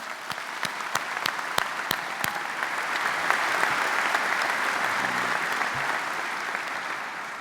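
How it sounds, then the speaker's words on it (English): Audience applauding a choir at a high school graduation ceremony, sustained dense clapping from a large crowd filling the hall, with a few sharp close claps at the start, steady throughout without speech. "Let's give them one more round of applause."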